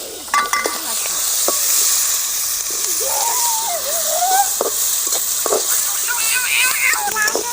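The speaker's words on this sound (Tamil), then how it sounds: "இந்த எண்ணெயிலேயே அரிஞ்சு வச்ச பெரிய வெங்காயம் 2 கப்பு." Two cups of chopped big onions frying in hot oil give a continuous soft, hissy sizzle, with scattered clinks and a voice faintly in the background.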